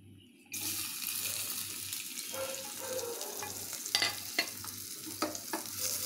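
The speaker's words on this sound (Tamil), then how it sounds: "2-3 சின்ன வெங்காயமும் 2 வத்தல் போட்டுட்டு பச்சை கருவேப்பிலையும் போட்டுட்டு அப்படியே நம்ம அதை தாளிச்சு கொட்டிடணும்" Shallots, dried red chilies and curry leaves dropped into hot coconut oil for fish curry tempering, a sudden sizzle bursting in after a brief quiet moment, then steady crackling with a few sharp pops, close by.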